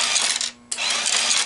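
Nickels rattle down through a Conlux CCM-5 tube vending coin mechanism, a dense metallic clatter with one short silent gap partway through, close and loud.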